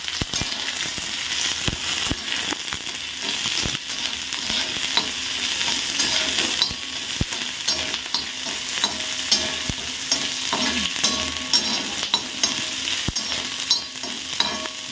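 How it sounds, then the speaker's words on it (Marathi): Onion roasting for masala on a cast-iron tawa, steady dry sizzling and crackling with frequent scraping stirs and sharp clicks of the spatula, close and continuous with no voices. "तर मसाल्यामध्ये आधी कांदा भाजून घ्यायचा आहे."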